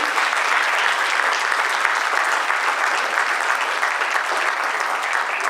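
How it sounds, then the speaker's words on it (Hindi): Loud, sustained applause from a theatre audience for the playwright at a live stage play, a dense even wash of clapping filling the whole stretch without a break. "तो एक बार जोरदार तालियां लीला शंकर गोहा जी के लिए।"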